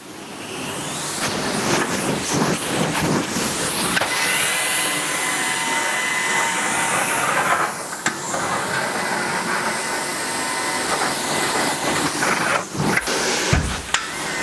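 A carpet cleaning machine makes dry passes over old carpet in a rental home, giving a loud, steady vacuum-like roar and hiss that holds throughout with small dips and surges as it moves, with no voices.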